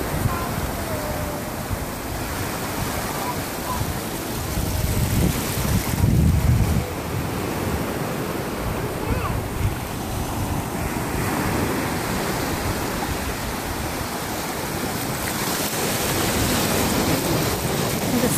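Ocean waves roll and break on a shore in a steady, roaring wash, with heavy wind buffeting the microphone and a louder surge a few seconds in.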